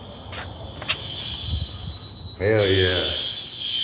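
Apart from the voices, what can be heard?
fire alarm sounding during a test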